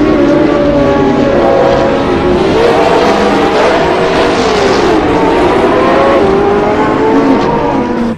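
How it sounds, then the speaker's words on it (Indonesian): A blue toy race car with a steady engine drone holding a wavering tone, loud and continuous throughout with no talking. "di sini ada mobil balap warna biru"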